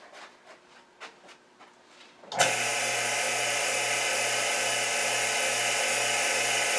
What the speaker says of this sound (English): turn on the vacuum chuck, and I'm going to use a 3/8 inch bowl gouge mostly to get rid of this